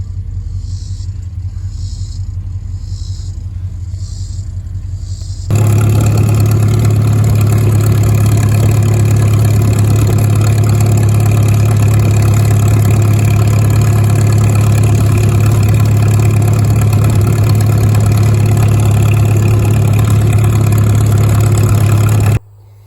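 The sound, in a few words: tractor engine idling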